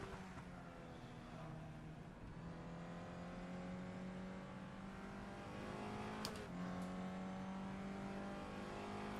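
A race car engine in a driving simulator, played on a Thrustmaster T300 wheel, holds a steady, buzzing drone at partial throttle. Its pitch climbs slowly, then drops and resettles briefly near the end. It runs alone and close, with no talk.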